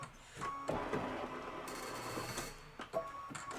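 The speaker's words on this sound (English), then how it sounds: "Then just go ahead and hit start, and it's going to do the house quilting" An embroidery machine stitches a house quilting design for a Kimberbell Cup of Cheer project, a steady mechanical whir with faint ticking pulses and a few louder clicks, moderately close and with no talking.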